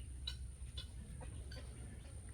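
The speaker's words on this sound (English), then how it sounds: "the chickens just eat right there outside the barn door" Chickens feeding on the ground outside a barn door give a few soft, scattered clucks over a steady low outdoor rumble, with faint chirps and scratching in the background.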